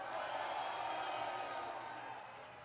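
Political rally audience in Detroit breaking into applause, a dense wash of clapping and cheering that stays loud before gradually tapering off.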